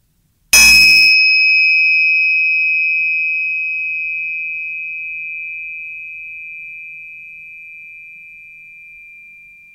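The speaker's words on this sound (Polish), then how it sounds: "Dzwonek, który nazywa się Tinksha." Tingsha bell, a pair of small metal cymbals struck together once, giving a bright ringing ding with two pure high tones that sustain and slowly fade over nearly ten seconds in a quiet room.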